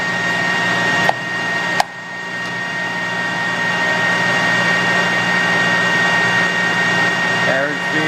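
A Clausing Colchester 13x40 metal lathe runs with its carriage moving under power feed, giving a steady mechanical hum and whine throughout, with two sharp clicks early on.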